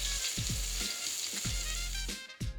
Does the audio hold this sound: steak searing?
yes